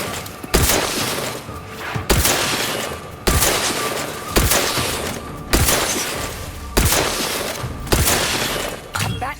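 Heavy gunshots in The Outer Worlds 2, eight or nine loud, sharp blasts at roughly one-second intervals, each with a ringing, crackling tail.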